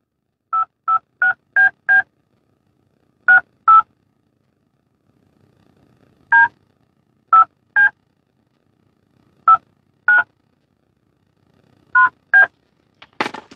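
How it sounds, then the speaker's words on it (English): A phone keypad sends a sequence of about sixteen DTMF dialing tones while a number is entered for a prepaid calling-card call, short two-tone beeps in quick bursts with pauses between groups, clear and close against near silence. "please enter the telephone number you wish to dial now"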